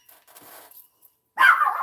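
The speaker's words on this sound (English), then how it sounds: "No barking, Lena." A dog gives a sudden loud burst of barking near the end, after a stretch of quiet indoor sound with faint background noise.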